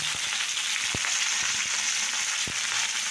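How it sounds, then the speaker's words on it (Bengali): Salted food fries in a pan with a dense, continuous sizzle, and a couple of sharp knocks of the spoon land as it is stirred, loud and close without speech. "এরকম নাড়াচাড়া করবো"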